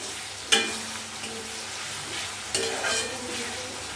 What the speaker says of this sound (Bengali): দেখো এখানে মাংসের জন্য পেঁয়াজটা ভাজছি।